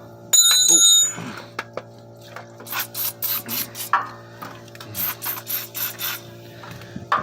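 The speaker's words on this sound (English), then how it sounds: "I'm gonna spray some stuff. I found out that this motorcycle chain lube is really good as a penetrant oil" An aerosol can of motorcycle chain lube sprays in short hissing bursts on a 2014 Dodge Durango transfer case, close and clear, after a brief metallic ring at the start.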